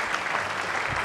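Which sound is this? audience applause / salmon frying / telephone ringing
audience applause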